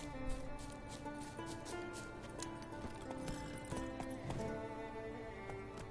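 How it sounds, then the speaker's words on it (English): Rapid hoofbeats of a horse in The Witcher 3 clatter in a continuous galloping rhythm over a busy background of game sounds and faint music. "I'll just resummon my horse."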